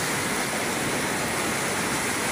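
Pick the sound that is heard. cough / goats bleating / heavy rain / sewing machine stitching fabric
heavy rain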